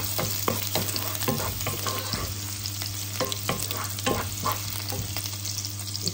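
Garlic and a little onion sautéing in a pan, a bright steady sizzle punctuated by repeated close scraping and tapping of a spatula, with a constant low hum beneath.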